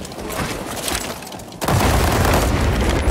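A grenade blast in World War 3 bursts out suddenly mid-clip, loud and close, with a broad boom after a stretch of rumbling battlefield noise.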